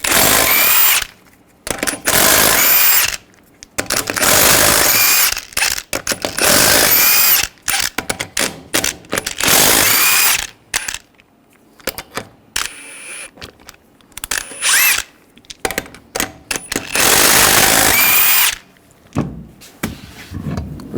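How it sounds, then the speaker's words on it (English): Impact-style power tool with a 22mm socket zipping lug nuts off the wheel of a 2007-2013 Chevrolet Silverado 1500, loud repeated bursts of whirring and rattling separated by short pauses, close up, no talking. "take the lug nuts off"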